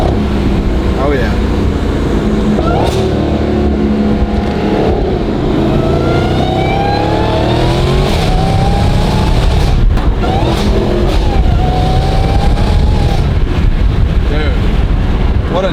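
A Dodge Hellcat V8 with a Valvetronic Designs valved sport exhaust, valves open, revs and downshifts with a raspy, rising and falling roar. The exhaust sound is close, loud and continuous, with brief voices over it.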